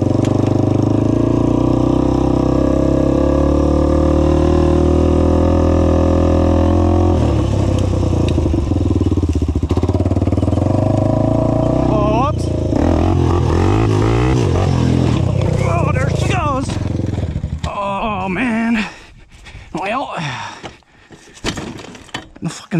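A Honda 400EX ATV engine roars loud and close through a wheelie, revving hard and steadily, then dropping into uneven bursts and clattering idle near the end.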